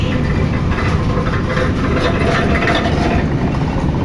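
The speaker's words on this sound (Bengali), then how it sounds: "এই যে ট্রেন চলে গেল দেখেন একদম লম্বা একটা ট্রেন চলে গেল" A long passenger train rolls through a railway station, a steady, loud, continuous low rumble of wheels and carriages passing close by without a break.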